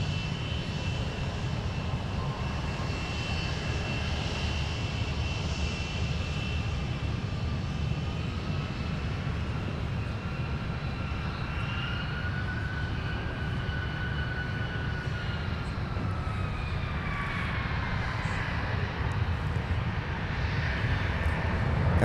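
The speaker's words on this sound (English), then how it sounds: "Alaska Airlines coming in today on a 737 MAX 8 inbound from Seattle" An Alaska Airlines Boeing 737 MAX 8 jet comes in to land on runway 12 left at MSP, a continuous loud engine roar with a whining tone that slowly shifts in pitch as it passes, no voices.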